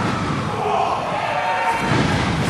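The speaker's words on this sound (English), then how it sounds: "Smashing the bully into the corner." A wrestler is smashed into the ring corner at an RPW Rampage pro wrestling show, a brief heavy impact buried in a loud, steady crowd roar that fills the whole moment.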